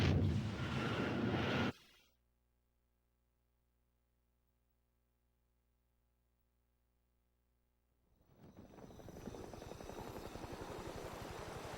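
Video game helicopter, a loud rotor roar at the start that cuts off abruptly, a quiet stretch with only a low hum, then the chopping rotor noise returning and holding steady.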